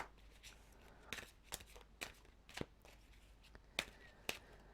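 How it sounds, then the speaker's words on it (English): Tarot cards being shuffled for a weekly zodiac reading, heard as a quiet run of sharp riffling snaps spaced about half a second apart over low background hiss, with no voice. "I'm going to start shuffling the cards for you for the week ahead"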